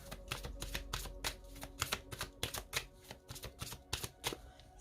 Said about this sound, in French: on va commencer par mettre les cartes du grand oracle de l'amour